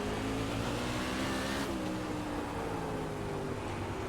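Outlaw asphalt sprint cars race at Slinger Speedway, their engines droning loud and steady as they pass, with a sharp shift in pitch partway through and no talking.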